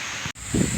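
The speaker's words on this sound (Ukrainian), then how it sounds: "Цей вітер мене так діставав, коротше зносив у мене все на світі" Gusty wind buffets and rustles, with a brief dropout midway before a louder, rumbling gust follows.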